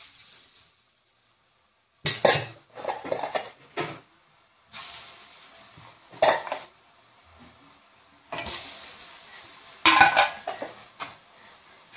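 Janthikalu dough pressed into hot oil, heard as bursts of metal-on-metal clanking from a press and pan with brief sizzling between quiet gaps, close and fairly loud.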